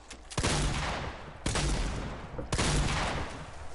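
Bursts of gunfire in a building-and-shooting video game, where the player's guns break trees for materials: three loud, sharp volleys about a second apart, each opening with a crack and trailing into sustained rapid fire.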